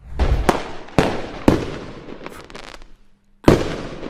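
Diwali firecrackers go off in a quick series of five sharp, loud bangs, each trailing off into crackle and echo, with a brief quiet gap before the last blast.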